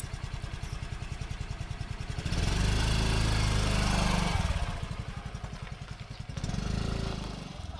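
A scooter engine starts and runs at an outdoor spot, chugging at a close, loud, uneven idle and then swelling twice into brief revs before settling back.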